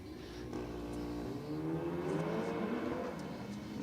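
A BMW and a VW Golf drag racing at Sydney Dragway on a night meet, engines revving and rising in pitch as they accelerate away, a sustained mid-distance roar with gear-change dips.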